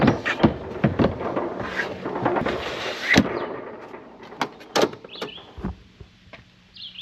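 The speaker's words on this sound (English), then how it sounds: "And that's how you put your battery in." A battery pack sliding and clicking into a Bluetti SwapSolar portable fridge, heard as several close, sharp knocks and latch clicks with a scraping slide, alone without talk.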